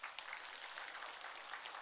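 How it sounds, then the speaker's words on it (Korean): A church congregation at a Sunday service applauds to welcome new members, a brief burst of fairly faint, even clapping from many hands in a large room. "박수로 한번 격려하십시다."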